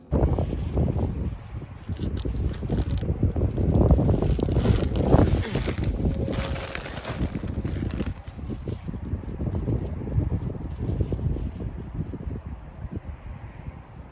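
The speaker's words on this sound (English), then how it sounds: "that wind is out there is disrespectful" Strong gusty wind outdoors in a garden, roaring and buffeting the microphone steadily for the whole stretch with surging rumbles and rustling, no voices.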